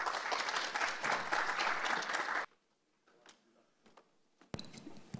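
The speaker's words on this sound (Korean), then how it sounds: "모두 큰 박수 부탁드리겠습니다." Audience applause greeting a school principal's lecture at the opening ceremony of a startup school, a dense, steady clapping that fills the room for a couple of seconds, then cuts off to near quiet with faint scattered sounds.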